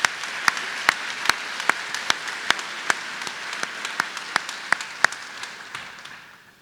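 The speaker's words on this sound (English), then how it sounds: "How about if we give them a great round of applause for their selectivity?" Audience applause at a medical school white coat ceremony in a large hall, with a few sharp, distinct claps standing out over a steady bed of clapping that gradually fades.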